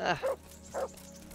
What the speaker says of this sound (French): Ah, c'est le chien.